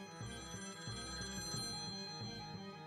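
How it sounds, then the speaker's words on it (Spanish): A telephone rings continuously with a rapid, warbling electronic trill, close and steady throughout, with no voices over it. "el teléfono de don Braulio volvió a sonar"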